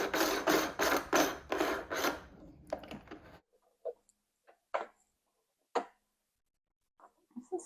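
Repeated rasping, scraping turns at close range as a kitchen sink drain fitting is screwed on by hand, several rapid strokes followed by sparse clicks and small knocks with quiet pauses.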